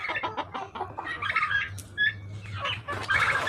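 Chickens cluck and call nearby in quick, uneven bursts, several birds overlapping, with faint background noise beneath.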